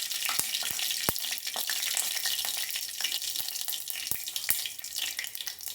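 Chana dal and mustard seeds sizzle in hot oil, a steady bright hiss of frying with occasional sharp pops and crackles throughout.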